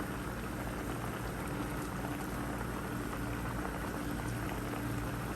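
A fish molly curry simmers in a pan with sliced tomato on top, producing a soft, continuous bubbling and gentle crackle at close range without any voices.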